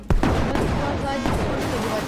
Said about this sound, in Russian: Давайте по этому постреляем. Сколько надо выстрелов?